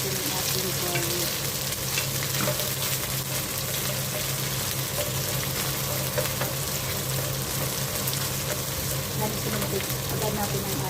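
Garlic sizzling in a hot pan for a chicken, vegetable and tofu stir fry, a steady, even crackling hiss that runs throughout without pause.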